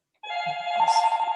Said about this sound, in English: Oh, right on cue, telephone.